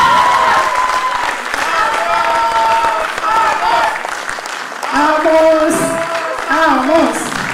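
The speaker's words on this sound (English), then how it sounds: "Please give a big round of applause to Amos." Audience applause at a foundation day award ceremony as an honoree comes forward, steady loud clapping mixed with crowd noise and musical tones that swell near the end.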